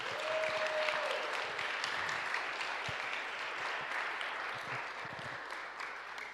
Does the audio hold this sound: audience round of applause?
yes